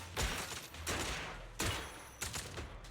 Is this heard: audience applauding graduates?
no